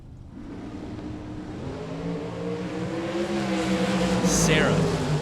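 Drag race cars at a bracket race in Las Vegas rev and build in engine roar, growing steadily louder over about five seconds, with a commentator's voice running over the top.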